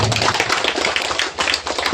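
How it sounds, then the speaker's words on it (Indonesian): Audience clapping for students at a high school graduation farewell ceremony, loud, dense and continuous applause from a large crowd, with a brisk, even rhythm. "Tepuk tangan dulu ke anak kita"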